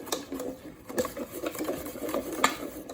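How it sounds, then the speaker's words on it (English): Matcha chiffon cake batter being whisked by hand in a bowl, a quick continuous patter of soft rhythmic clicks and scrapes, close and fairly quiet. "you want to whisk this mixture until it looks like this"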